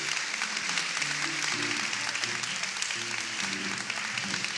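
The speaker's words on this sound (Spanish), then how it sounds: "dale un aplauso al Señor." A church congregation applauds during a worship service, steady clapping sustained throughout with low organ-like tones and murmurs beneath.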